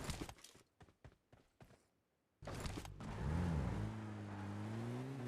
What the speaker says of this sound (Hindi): अब गाड़ी में बैठ के आगे जाएंगे